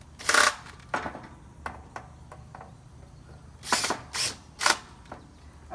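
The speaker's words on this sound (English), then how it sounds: "I can go ahead and tighten the screws on the cleats" Screws being tightened on the cleats of a Varden outdoor garden kit bracket, giving a few short ratcheting, clicking bursts with quiet gaps between them, close by and with no talking.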